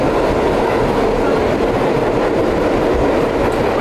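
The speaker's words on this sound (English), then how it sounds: "New York City subway life." A New York City subway train rides along with a steady, loud rumble and rhythmic clickety-clack of the wheels on the rails, filling the whole stretch with no pauses and no talk above the noise.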